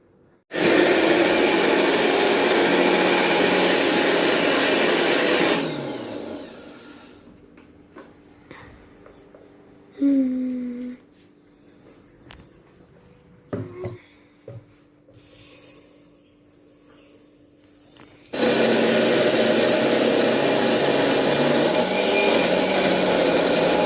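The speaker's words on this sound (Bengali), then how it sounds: "এবার হচ্ছে গুঁড়াকরণের ফেলা" An electric grinder pulverises roasted cumin, peanuts and chickpeas in two loud, harsh whirring bursts that wind down, separated by a quieter stretch of small clicks and knocks.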